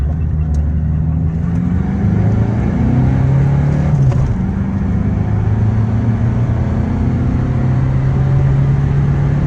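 Citroën C-Elysée 1.6 HDi diesel, tuned to about 140 hp with a cutout exhaust, accelerates in-car with a loud, steady engine drone whose pitch climbs, dips at a gear change around the midpoint, then rises again.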